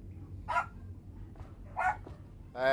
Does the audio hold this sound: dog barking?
yes